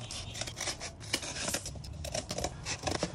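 Scissors cut a paper template in a garage: a run of crisp snips and the rustle and tearing of paper, close and fairly quiet, with no talking.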